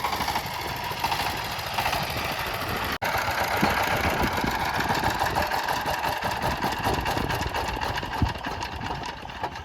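A power tiller engine running steadily and close by in a farm field, with a continuous rattling drone and one brief dropout early on.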